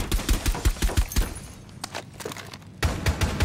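Rapid automatic gunfire hammers at a spot between two windows in the video game Rainbow Six, with a steady run of close, loud shots, a lull of scattered rounds, then another sustained burst.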